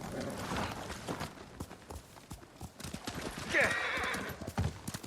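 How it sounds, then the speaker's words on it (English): Horse hooves gallop in the video game Ghost of Tsushima, a steady thudding clip-clop throughout at moderate loudness, with a brief whinny rising above the hoofbeats near the middle. "I need a horse."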